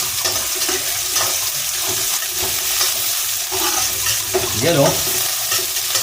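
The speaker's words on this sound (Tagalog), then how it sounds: "Mainit na ang mantika. Ilagay ang sibuyas." Sliced onion frying in hot oil, a loud, steady crackling sizzle with occasional stirring scrapes, and a voice speaks briefly over it.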